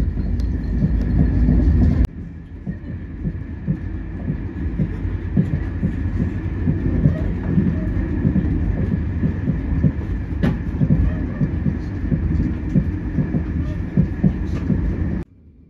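A passenger train rolls steadily through the Irish countryside between Cork and Dublin with a continuous rumble and rhythmic clacking, a faint hum running above it, before cutting off abruptly.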